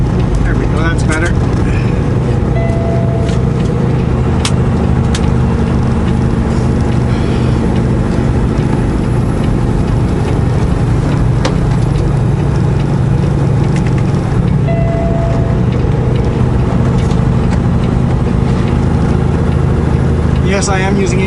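A car crawls along a snowy road during a snowstorm, engine braking with a steady low drone and rumble inside the cabin, loud and continuous, with a few faint clicks and squeaks over it.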